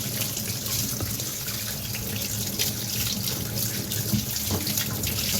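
Mangoes are washed under a running kitchen tap, water splashing in a steady, even stream throughout with no talk.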